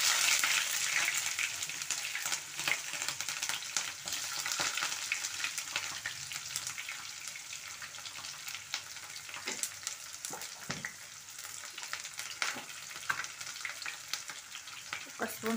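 Two green chilies fry in hot oil in a pan, giving a steady, close sizzle and crackle that runs throughout with scattered sharper pops and faint stirring scrapes.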